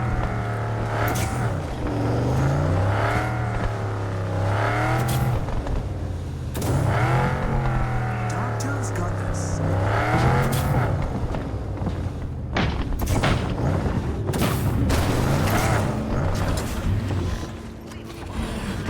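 A car drives in the video game Cyberpunk 2077, its engine droning and rising and falling through repeated revs and gear changes, loud and close, with thumps and bumps near the end and no talk.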